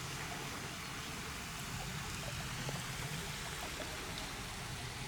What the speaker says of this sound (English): Finally made it to the Kadumba River.